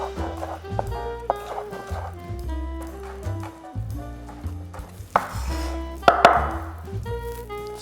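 A knife dices peppers on a cutting board for three bean chili, producing quick, close chopping taps over background music.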